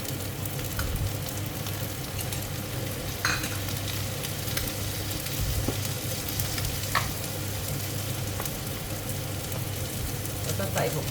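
Oysters and spring onions stir-fried together in a hot pan, a steady sizzle with scraping stirs and clatter throughout, a low hum beneath and faint voice at moments.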